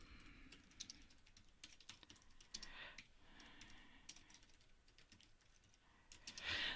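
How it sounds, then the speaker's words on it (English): Fingers type on a computer keyboard while writing in Google Docs: quiet, rapid, irregular key clicks close to the microphone, with no voices. "So you see just some basic typing there"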